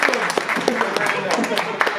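Panel audience at a convention clapping, a short burst of brisk, close clapping with voices mixed in underneath.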